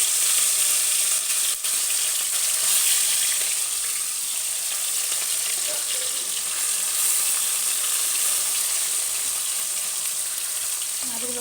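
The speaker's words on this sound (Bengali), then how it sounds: "এবার দেখো কড়াইতে তেল বসিয়ে দিয়েছি, তেলটাও গরম হয়ে গেছে। এবার মাছগুলোকে সব আস্তে আস্তে ছেড়ে দিচ্ছি।" Amudi fish sizzling and frying in hot oil in a wok, a steady dense crackle and hiss running continuously at close range with no talk over it.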